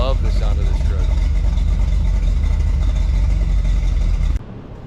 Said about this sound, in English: You can hear it's pretty choppy. I love the sound of this truck.